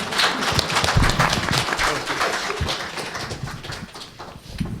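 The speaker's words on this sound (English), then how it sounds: "Give the panelists a round of applause" A conference audience at a blockchain summit panel gives a round of applause, a dense burst of scattered clapping that holds for several seconds and gradually thins.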